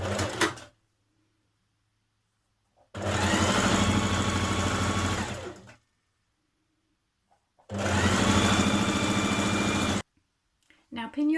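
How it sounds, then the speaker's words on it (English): A sewing machine runs in two steady bursts of about three seconds each as it machine-bastes along a skirt edge, loud and close, with quiet pauses between runs. "you're just going to machine baste all along this edge just to keep both of those sides together"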